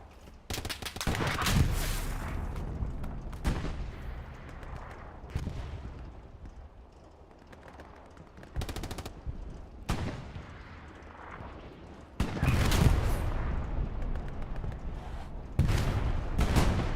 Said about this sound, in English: Artillery strikes called in.